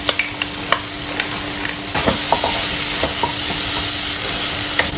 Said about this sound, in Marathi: याच्यामध्ये आपण खोबऱ्याचं वाटण घालूया. हे पण आपल्याला परतून घ्यायचंय छान